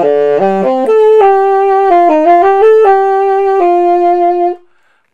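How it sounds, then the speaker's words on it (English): A tenor saxophone plays a short solo melodic phrase with a heavy, open tone, several sustained and shifting notes, loud and close with no talking. "So a student will come in and they'll be playing a sound something like this."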